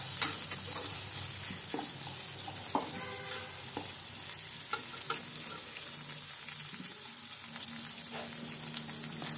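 Tomatoes sizzle and fry in a pan while being stirred, a steady close crackle with scattered scraping clinks of the spoon throughout.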